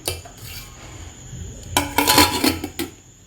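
A spoon stirs dhokla batter made from leftover rice in a metal bowl, with a soft scraping start that builds into a cluster of clinking, clattering strokes.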